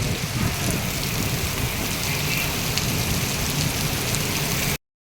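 Heavy rain pours down in Mumbai, a dense, steady roar of downpour that stays loud and unbroken until it cuts off abruptly near the end, with no voices.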